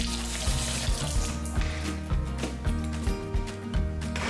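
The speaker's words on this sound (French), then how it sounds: "On rince ensuite nos asperges avec un filet d'eau froide." Asparagus spears rinsed under a thin stream of cold tap water in a sink, steady running water with rhythmic splashing and clunks as the spears are turned, close and fairly loud.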